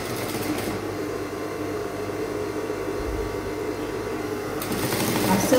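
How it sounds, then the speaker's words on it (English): A sewing machine stitches rigilene boning onto a bustier at a 1/2 inch seam with a close, continuous hum, under a voice that talks quietly. "Redling boning, you can sew it with your machine."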